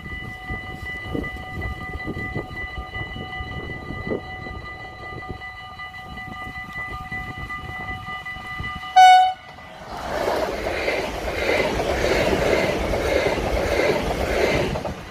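A train rumbles past, then blasts a loud horn, followed by rushing, clattering wheels as the cars roll by close up.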